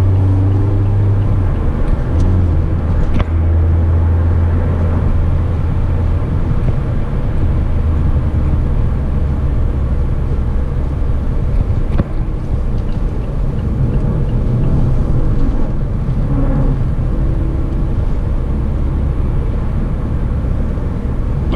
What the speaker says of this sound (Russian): в машине хорошо слышен двигатель